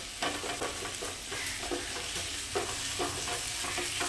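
Ginger fries in hot oil in a pan while being stirred, giving a continuous close sizzle broken by repeated scraping strokes, with no voices.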